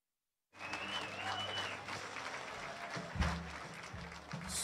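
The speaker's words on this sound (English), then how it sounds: "Ladies and gentlemen, a round of applause for team number 8." Applause breaks out at a racers' drawing banquet after a short silence, a steady round of clapping from the room with a few louder bursts, fairly faint and continuing to the end.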